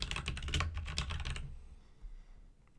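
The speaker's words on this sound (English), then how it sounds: "right here, I'm gonna type in forward brands." A burst of quick keystrokes clatters on a computer keyboard for about a second and a half, close and crisp, then stops into near silence.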